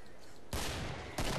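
Two sharp, loud lever-action rifle shots ring out in the Killing Floor video game, spaced under a second apart over faint background noise.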